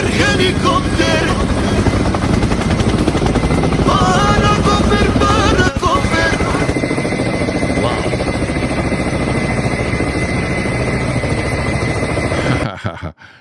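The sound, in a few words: helicopter flying overhead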